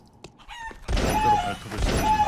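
A chicken in a video game clucks and squawks in short bursts, starting with faint clicks and thumps, then a louder, fuller squawk with crackling game noise behind it.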